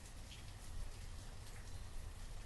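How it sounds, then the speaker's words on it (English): Steady rain falls in a continuous, soft hiss with faint scattered drops, a constant low wash with no voices. "and it's raining."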